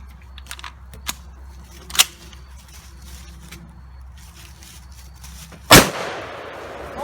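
A shotgun fires once at an AA Rayovac battery, giving a single loud, sharp blast near the end. A few faint clicks and a smaller pop come before it in a quiet outdoor setting.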